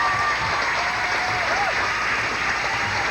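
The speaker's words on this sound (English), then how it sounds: "Big hand from the crowd." Sustained, loud applause from a crowd in a gym at a 1988 high school basketball tournament's award ceremony, with faint voices mixed into the steady clapping.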